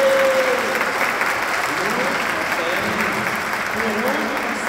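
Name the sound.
applause for the children at Mass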